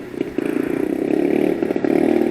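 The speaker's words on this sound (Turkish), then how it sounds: "CF Moto 250 SR sürüyoruz." A 2024 CFMOTO 250SR motorcycle drones steadily while being ridden, its mid-pitched engine hum pulsing evenly and close, mixed with wind noise.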